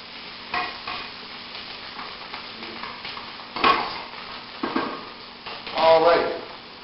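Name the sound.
stirring onions cooking in a pot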